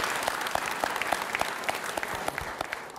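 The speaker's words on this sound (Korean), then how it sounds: "시민 여러분, 그분들께도 큰 박수 한번 보내주시기 바랍니다." A crowd of citizens claps at a public event during a provincial governor's visit to Gyeryong, South Korea: steady, dense applause with scattered louder claps throughout, moderately distant and without talk.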